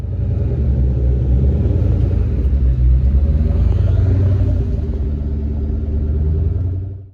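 Ford Mustang Mach 1 cars head out on a cruise. The V8 engines give a loud, steady, deep rumble that carries on continuously with only small swells.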